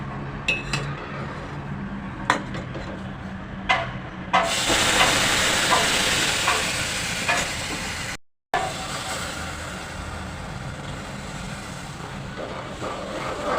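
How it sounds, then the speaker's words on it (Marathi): Hot milk poured onto roasted vermicelli for sevai kheer: a few utensil clinks, then a loud, close rush of hissing that lasts several seconds and then settles into a softer bubbling simmer. "आता हे गरम केलेलं दूध मी या शेवयांमध्ये घालते"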